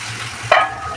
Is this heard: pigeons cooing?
no